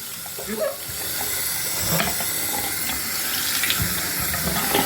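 Water from a faucet runs steadily into a bathroom sink during rinsing, a continuous close hiss and splash lasting the whole stretch, with a few small clinks and knocks inside it.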